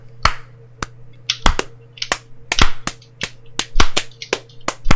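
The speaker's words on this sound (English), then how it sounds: "What's that slapping sound?" A series of sharp, close slapping smacks at an irregular, uneven pace over a steady low electrical hum.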